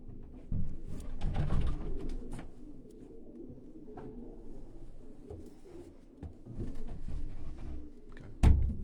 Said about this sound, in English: This is a pigeon